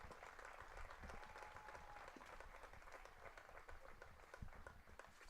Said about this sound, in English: Another round of applause for our honorary pitcher,